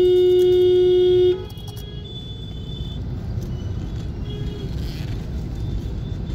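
Road traffic rumbles around a 2020 Mahindra KUV100 NXT on a city drive in Ulhasnagar, opening with one long steady car horn blast, then a continuous engine and road drone.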